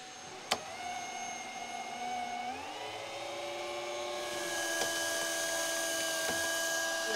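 Daiwa Tanacon 1000 teaser reels spool on 150-pound mono line with a steady mechanical whine that shifts and rises in pitch, joined by a faint click near the start.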